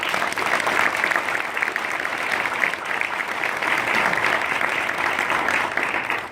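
An audience applauds to welcome a panel at a business event, a steady wash of clapping from many hands that holds at an even level throughout.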